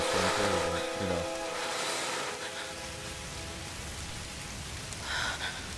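Rainstorm in the Tomb Raider video game, a steady loud wash of rain noise filling the scene, with a tonal game sound at the start and a brief swell near the end.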